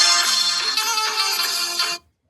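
A devotional Dwarkadhish ringtone plays loudly from a mobile phone as a bright, tuneful melody, then stops abruptly after about two seconds.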